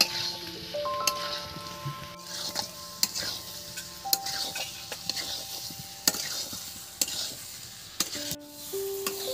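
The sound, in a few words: stirring potatoes with spices in a pan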